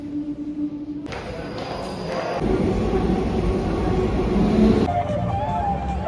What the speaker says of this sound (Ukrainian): тепер їдемо в Міланському метро.